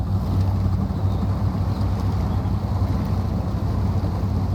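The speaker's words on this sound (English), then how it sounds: "Again, the engine sounds are very tame." Dearborn D-150 Monster truck in the SnowRunner video game, its engine giving a steady, tame low drone that holds unchanged throughout, with no talk over it.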